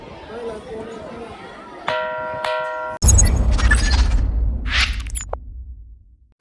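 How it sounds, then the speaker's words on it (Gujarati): A historic stone at the Mahakali temple in Sabli, Sabarkantha, is struck and rings like a gong bell with a few bright, sustained metallic tones, then a loud burst of noisy clatter and rustling follows. "આ જ ઐતિહાસિક પથ્થર છે પથ્થર છે જેમાંથી ઝાલરનો અવાજ આવે છે તો સાંભળીએ"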